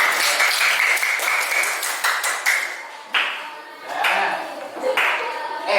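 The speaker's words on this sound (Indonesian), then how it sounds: "Kerja kelompok 3, tepuk tangan juga untuk kelompok" Classroom applause for group 3 in a lesson, a burst of quick overlapping claps from many students that thins into scattered claps and then swells again, close and lively.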